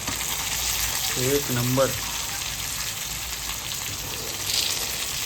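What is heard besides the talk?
rawas fish pieces frying in a pan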